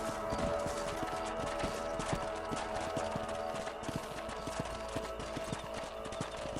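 Horse hooves clip-clop steadily in Red Dead Redemption, a rapid repeating rhythm of close, moderately loud hoofbeats on a ranch patrol, layered over a constant bed of game ambience and music.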